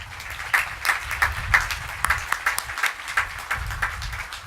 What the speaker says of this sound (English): And I only meant for Judy to get applause by herself.